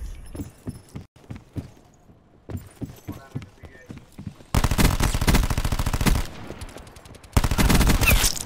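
Rapid automatic gunfire from Call of Duty: Black Ops 4 team deathmatch multiplayer, with scattered shots giving way to two long, loud sustained bursts, while players talk excitedly over it.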